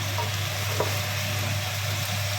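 Pork leg frying in a pan with onion and garlic, giving a steady, close, loud sizzle with faint stirring scrapes and no voices.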